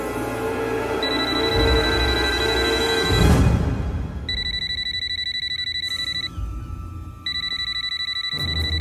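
A telephone rings with repeated electronic trilling tones in spaced bursts, loud and close, over a sustained background and a brief swell of noise, with no one talking.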